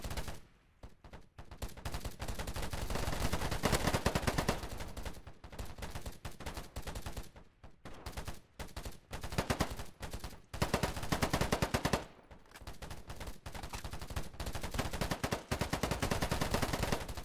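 Sustained automatic AK-47 fire in the shooter game Polygon, long loud rattling bursts broken by short pauses, dense and continuous with no talk over it.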